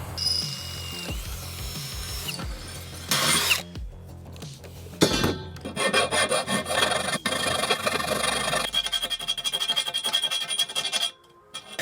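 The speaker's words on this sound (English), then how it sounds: "I'm gonna drill a hole right through the top of this thing." A power drill bores a hole through the top of a wooden DIY golf practice net frame, whining in several bursts with rough grinding as the bit cuts, then spinning down near the end, close and loud.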